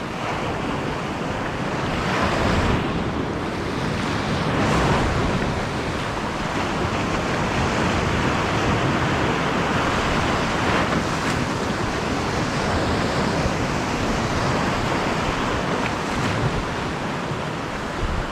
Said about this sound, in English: The swell's small enough that I'm protected by this ledge here from any bigger waves